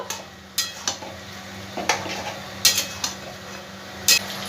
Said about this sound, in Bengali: ভালো করে মশলার সাথে চিকেনটাকে একটু নাড়াচাড়া করে দেবো